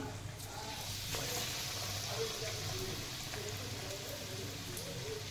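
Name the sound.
vada frying in hot oil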